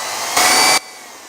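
A drill spins a bit during a short burst of steady, bright whirring while work is held in a bench clamp, loud and alone, cutting off abruptly.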